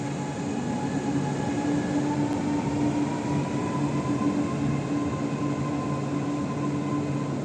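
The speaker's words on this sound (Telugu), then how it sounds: "ఇది మెట్రో ఇన్సైడ్ ఎక్స్పీరియన్స్." A Chennai metro train rolls along early in the morning, heard from inside an almost empty carriage as a loud, steady rumble and hum with a faint high whine running throughout.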